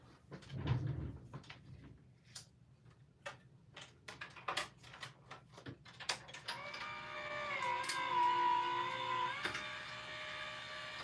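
A stamping or die-cutting machine for papercraft runs up close, starting with scattered ticks and clicks, then settling into a steady mechanical whir with a whining motor tone and occasional clacks, and no one speaking.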